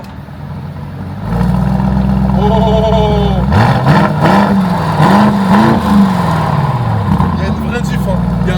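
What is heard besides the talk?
Lamborghini Urus engine revving in Corsa mode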